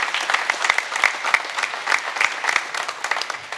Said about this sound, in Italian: consigliere regionale Stefano Valdegamberi, quindi un saluto ed un applauso anche a lui che ha voluto essere qui